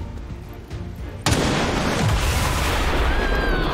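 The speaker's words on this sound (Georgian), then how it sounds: "აი ეს მინდა ზუსტად აფეთქება" A remote-detonated explosion in the video game XCOM 2 bursts suddenly after a quieter stretch, then rolls into a loud, sustained rumbling roar.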